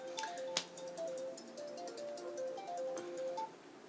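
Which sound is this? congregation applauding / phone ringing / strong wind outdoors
phone ringing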